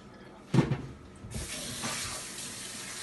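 A kitchen tap turns on for lemon juice preparation, starting with a splashing burst and then settling into a steady close hiss of running water filling a container, with no speech.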